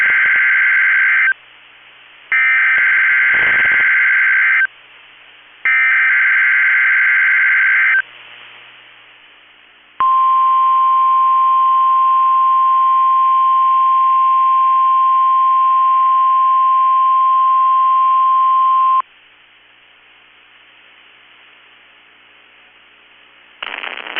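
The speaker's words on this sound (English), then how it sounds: "The National Weather Service in Chanhassen, Minnesota has just activated the warning alarm on 13 weather radio stations across central and southern Minnesota and west central Wisconsin." A NOAA weather radio broadcast sounds its loud warning alarm: first three bursts of EAS data tones, then a long steady alert tone held for about nine seconds, followed by quiet hiss.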